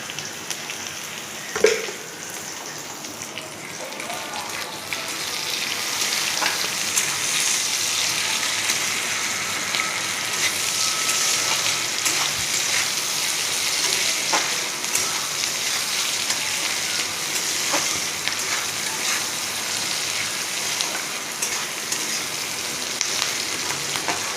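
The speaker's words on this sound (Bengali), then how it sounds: "পেঁয়াজটা ভালো করে ভেজে নিচ্ছি।" Chopped onions fry in a pan with a pinch of salt, cooking for lau chingri: a steady close sizzle and crackle that fills the whole stretch, with a brief clatter near the start and no talk.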